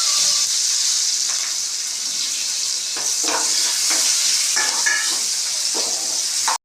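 Onions frying with chillies and turmeric in a pan, a loud steady sizzle with scraping stir strokes from about three seconds on, close by and with no talk.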